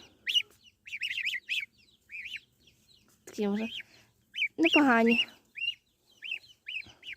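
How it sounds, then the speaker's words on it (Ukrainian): Goslings peeping in a repeated, high-pitched run of short chirps up close, with a person talking between and over them. "Ой, це наші гусенята."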